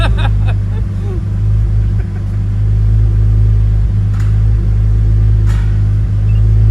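A tuned Toyota Supra MK4 engine, built for 1000 horsepower, idles with a deep, steady rumble and low throb up close, with faint voices in the background.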